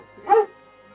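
A pet puppy gives a single short bark at close range, loud against a quiet room.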